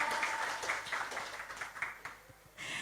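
Audience applause for the owner of a leather business at a shop opening in Jogja, a steady patter of clapping sustained for about three seconds, briefly dipping before swelling again at the end.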